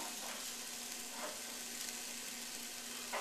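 Onions sizzling in a pot at the start of a soup, a steady crackling fry hiss that stays even and fairly quiet from start to finish, with no voices over it.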